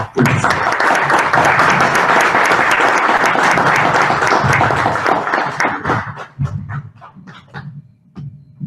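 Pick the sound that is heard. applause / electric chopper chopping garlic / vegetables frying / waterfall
applause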